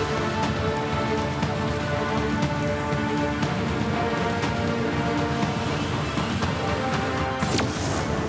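Heavy monsoon rain pours onto flooded roads in Karnataka, a dense, steady hiss of countless drops with close patter, continuous and unbroken throughout with no voices.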